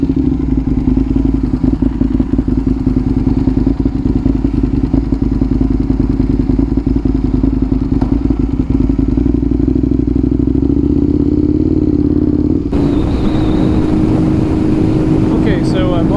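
A 2007 Aprilia RSV 1000R motorcycle engine runs steadily and loudly while riding, a constant throbbing drone that shifts character near the end as wind noise rises.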